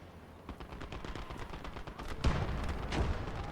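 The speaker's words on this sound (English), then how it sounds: "Oh, it's actually an SG stand, I think, instead of a Maxim." Machine gun fire from an SG stand in the WWII game Gates of Hell: Ostfront, a steady run of rapid, sharp shots with a heavier boom and denser burst partway through, loud and close.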